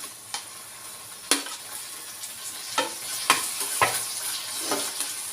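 Chopped onion, green chilli and tomato sizzle steadily in a pan for hotel-style pasta, with a spatula scraping and stirring in sharp strokes every second or so over the frying hiss.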